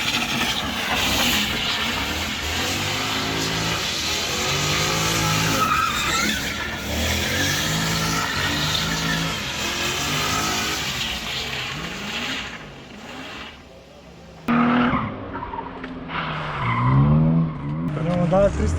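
A car on wide 285 and 235 tyres spins a drifting 360 at a motorsport event shoot, its engine roaring steadily with sweeping revs and tyre squeal, loud and close for most of the stretch before easing and flaring again near the end.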